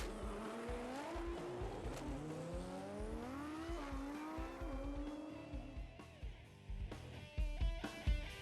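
Race cars at a row race pass close by with engines howling and revving and tires squealing in long sliding tones, followed by rougher, louder engine bursts.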